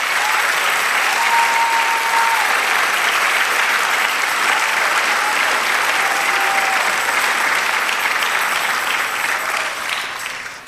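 A church congregation bursts into sustained, dense applause that holds steady and loud for about ten seconds before easing slightly at the end, with no talking over it.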